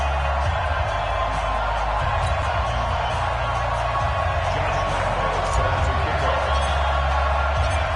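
Stadium crowd cheering in an NFL video game on PS4 before a Philadelphia Eagles versus New York Giants matchup, a steady loud roar with rising swells, and commentary talk over it.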